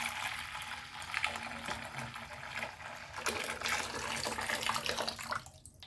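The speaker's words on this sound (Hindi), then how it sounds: "ये जो बर्तन में दूध है इसको मैं मिट्टी के बर्तन में डाल दूंगी।" Milk poured from a height into a clay pot to work up froth, a steady close liquid stream splashing continuously for several seconds before tapering off at the end.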